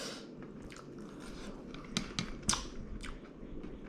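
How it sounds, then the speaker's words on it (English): Someone chews a fried fish dinner from a catch-and-cook trip, soft close-up crunches and bites in an irregular rhythm, faint over a low background hum. "I'm gonna go ahead and enjoy my dinner, my fish fry"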